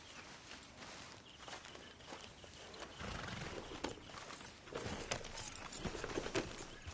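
A horse walks and neighs in the Red Dead Redemption 2 open world, with soft clip-clop hooves and rustling heard quietly in the distance, no voices present.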